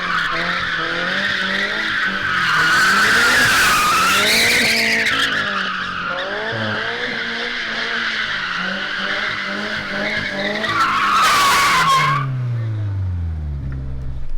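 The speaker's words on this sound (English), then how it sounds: "Let's go ahead and learn to drift." A Toyota GR86 drifting, tires skidding and squealing loudly in long sustained screeches while the engine revs rise and fall, close and continuous, ending with a downshift-like drop in engine tone.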